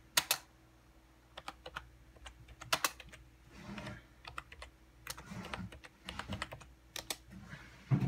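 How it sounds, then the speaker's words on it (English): Someone types on a computer keyboard at close range, with irregular bursts of crisp key clicks and a few louder taps spread across the stretch, and a quiet low hum beneath. "I'll just type in instead."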